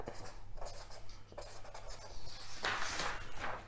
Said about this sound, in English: Let me draw it like that.